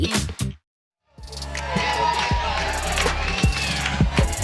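A crowd cheering at a pickleball semifinal at the US Open Pickleball Championships in Naples, Florida, with a short burst of noise, a brief silent gap, then sustained cheering and shouting.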